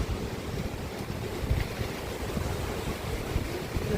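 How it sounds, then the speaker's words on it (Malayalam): Strong wind sweeps across the summit of Kumara Parvat, a steady, full rushing roar with gusty swells and low buffeting on the microphone, continuous throughout with no voices. "കാറ്റ് ഭയങ്കരമാണ്"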